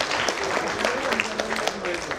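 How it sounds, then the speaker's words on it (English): A crowd claps at a sports club's centenary celebration, scattered applause mixed with voices. "I think we need to clap at the time"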